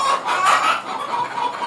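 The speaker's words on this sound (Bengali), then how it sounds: "আমার এই অল্প কয়েকটা মুরগি যখন কিচির মিচির শুরু করে দেয়" A small backyard flock of chickens cluck and chatter continuously, close and clear, with no talking.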